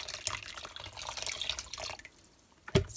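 Cold tap water runs from a faucet while a handmade paper pulp mixture is being thinned, a steady splashing trickle that fades out near the end and is followed by a brief louder splash.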